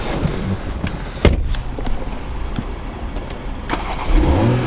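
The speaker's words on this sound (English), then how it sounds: "Now let's put the top down. Top goes down fairly easy." Power convertible top of a 2020 BMW Z4 sDriveM40i retracting, a close electric motor whirring steadily with mechanical clicks and thumps as the roof folds.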